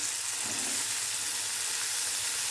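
Jackfruit seeds go into a pan of fried onions, raising a steady, soft sizzle and hiss of frying, with no voices.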